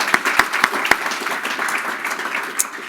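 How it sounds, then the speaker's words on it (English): A room full of people at a conference forum applauding, steady dense clapping with a few sharper claps standing out near the start, loud and sustained. "let's give them a round of applause"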